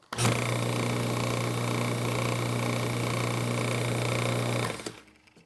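A shop-built plywood belt sander running steadily with a smooth, even whir and a low motor hum, switching on sharply and spinning down at the end, alone without talk.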